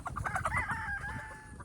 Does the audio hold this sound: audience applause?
no